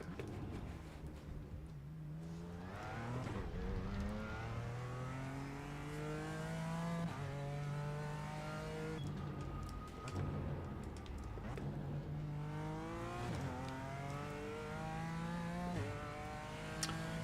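A BMW M4 GT4 race car at Road America in iRacing runs through its seven gears, the engine climbing in pitch again and again and dropping at each shift, loud and continuous from inside the car.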